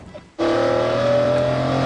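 A McLaren F1 car at speed cuts in abruptly after a near-silent moment, a loud, sustained high engine scream with a slowly rising whine, close and continuous to the end.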